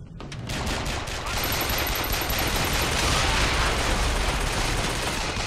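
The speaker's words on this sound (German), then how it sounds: "die knallen sich alle gegenseitig" Dense, sustained gunfire from a firefight in the video game Bioshock Infinite, with overlapping rapid shots forming a continuous loud barrage throughout.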